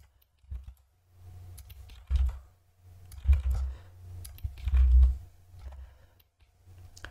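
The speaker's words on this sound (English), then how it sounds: "all I'm doing is just holding on control, hitting control C and control V" Keyboard keys and a mouse click in short bursts while copying and pasting with Ctrl+C and Ctrl+V, soft close-up taps and clicks with quiet gaps between them.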